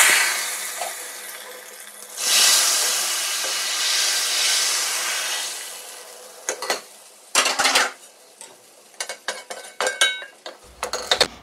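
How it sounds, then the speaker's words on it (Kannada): Spices tempering in hot oil for rasam give a loud, steady sizzling hiss lasting a few seconds, followed by sharp metallic clinks and clatter of a pot and spoon. "ಒಗ್ಗರಣೆ ಹಾಕ್ಕೊತೀನಿ."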